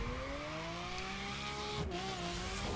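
Lamborghini Aventador engine in the racing game The Crew, a steady, sustained high-revving drone with slowly rising pitch and a brief shift in the middle, no talking.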